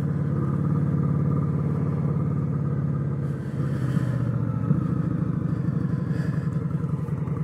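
An Indian Scout Sixty motorcycle on a ride in to work, its engine a steady close rumble with slight revving changes throughout, no talking.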